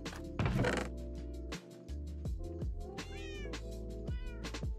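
Several Minecraft cats meow over and over, overlapping and insistent, close and loud, with a steady game backdrop beneath and a brief dip partway through.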